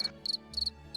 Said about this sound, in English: insert sound crickets